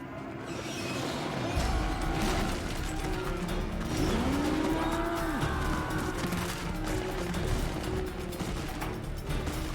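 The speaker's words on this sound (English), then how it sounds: "These like to moo." A mechanical creature in Metal Gear Solid 4 lets out long, loud, sliding moo-like groans over a dense rumble of game noise and action.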